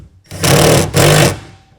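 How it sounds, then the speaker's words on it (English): Ratcheting from a 1/2 inch ratchet tightening a tonneau cover rail clamp on a 2022 Toyota Tundra, heard as two loud, close, buzzing bursts of rapid clicks with a brief pause between them. "tighten that down using a 1/2 inch ratchet or"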